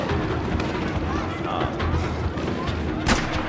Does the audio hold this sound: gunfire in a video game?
yes